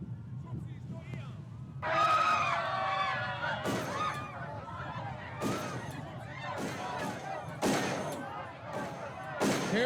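Bursts of automated turret gunfire in the Darkest of Days video game, several sharp reports spread over steady background noise, with game voices and radio chatter running throughout.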